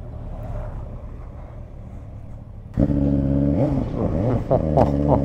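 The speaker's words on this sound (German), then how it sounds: "Hört man mein Motorrad überhaupt?" A low engine rumble, then a BMW S1000RR motorcycle engine roars up close, revving up and down several times with rising and falling pitch.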